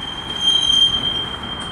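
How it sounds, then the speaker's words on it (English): A coal train rolls past close by, a steady rumble with a long high-pitched wheel squeal running through the middle. "There's the end of the coal train finally."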